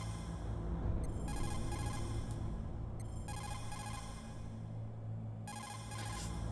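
Phone ringing in the video game Metal Gear Solid: repeated bursts of bright electronic trilling ring, three separate rings spaced about two seconds apart over a steady low game hum.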